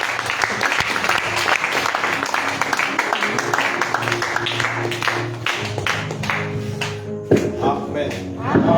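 A church congregation claps and applauds in unison, a dense, steady patter of hands filling the room, with voices and speech mixed in throughout and a short burst of louder activity near the end.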